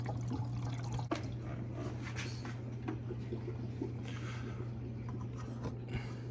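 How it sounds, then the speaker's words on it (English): Water trickles and drips into an empty Fluval 307 aquarium canister filter as it fills, a faint steady flow over a constant low hum, with no voices. "As you can see, the water sound flowing into it."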